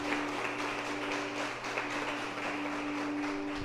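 A church congregation at Lagoinha Baptist Church applauding together, a dense, steady wash of clapping that holds evenly throughout with a faint sustained tone beneath it.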